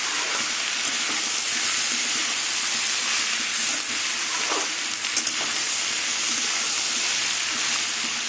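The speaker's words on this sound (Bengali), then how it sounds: "আর ঢাকবো না, বিনা ঢাকাতেই এটা ভাজবো।" Potatoes and kakrol (spiny gourd) fry with turmeric in an uncovered pan over raised gas heat, giving a steady, close, continuous sizzle and hiss with no talk.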